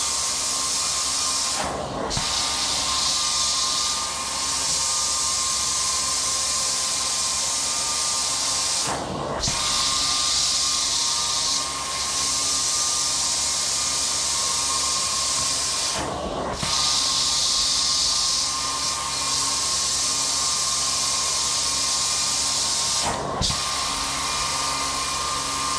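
A titanium six-jet carpet cleaning wand steams a rug, giving a loud, steady hissing spray. The hiss breaks off sharply every few seconds as the wand is lifted between slow strokes. No talk is heard.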